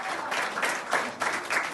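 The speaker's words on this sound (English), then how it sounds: "A COVID patient is clapped out of Sutton Coldfield's Good Hope Hospital after 23 days." Hospital staff applaud as a COVID patient leaves Good Hope Hospital in Sutton Coldfield, steady clapping from a small group swelling in brief waves.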